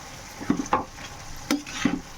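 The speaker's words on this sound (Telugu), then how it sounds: "ఇలా మొత్తం మిక్స్ చేసుకున్నాం కదా" A spoon stirs capsicum tomato masala curry in a pan with green chillies, giving four soft scraping strokes over a faint sizzle, close and without voices.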